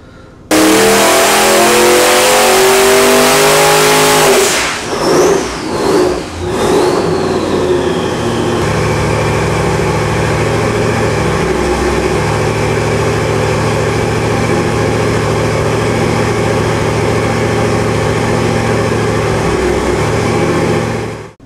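A twin-turbo 7.2-litre 441 cubic inch small block Chevy rated at 1500 HP revs hard on a dyno: loud sustained roar, sharp blips around the middle, then a steady high-rpm drone until it cuts off.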